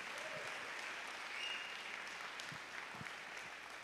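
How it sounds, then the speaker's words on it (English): Church congregation claps in a steady round of applause for a pianist, continuous and even but faint, with no talk over it. "Let's give a round of applause"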